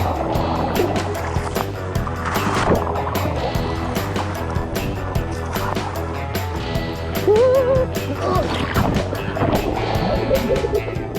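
Sea waves wash and splash around a stand-up paddle board off Goa, with a steady watery churn and a brief cry over the surf.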